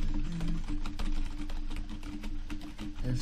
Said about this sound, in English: First off, let's go with some keyboard ASMR.